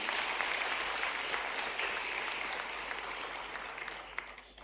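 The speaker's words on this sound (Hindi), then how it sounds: "जोरदार तालियां अक्षत के लिए भी।" A hall audience at a ceremony for students selected into higher education gives a student sustained applause, a broad, even patter of many hands, fairly distant and soft, tapering slightly toward the end.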